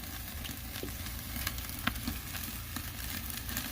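Ribeye steak searing over open flame on an Oklahoma Joe's Highland grill, a soft, steady sizzle and crackle with a brief pop, faint and distant, with no speech.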